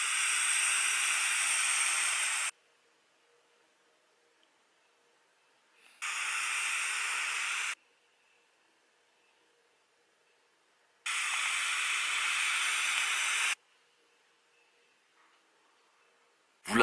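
Three long, steady hissing bursts of roughly two seconds each come from puffing on an Iroar Eurus RDA atomizer with 0.18 ohm dual coils set to 50 watts, each followed by near silence.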